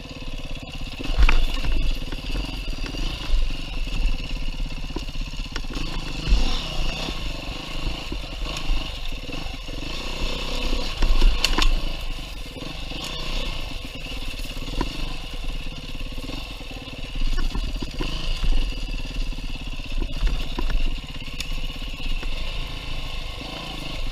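A dirt bike engine revs and labors along a single track trail, rising and falling in throttle bursts with clattering over rough ground, loud and close throughout.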